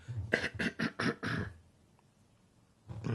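Someone clears their throat with a run of four or five rough, raspy coughs close to the microphone, then a pause and another start.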